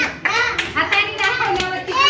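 A child claps hands in a first-grade classroom number activity, several quick claps in an uneven rhythm mixed with a voice, close and fairly loud.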